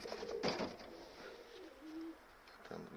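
A pigeon bought at a market coos softly nearby, a couple of low rolling coos in a quiet space, with faint handling noise and no talking.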